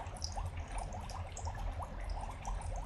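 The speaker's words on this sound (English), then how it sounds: "Bubbles?" A bubbling sound effect plays from a phone, a faint, quick series of liquid blips and gurgles over a noisy, muffled background.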